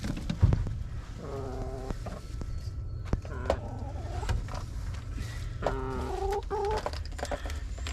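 Hens cluck repeatedly in a backyard coop during egg gathering, with several loud, close calls over steady background noise.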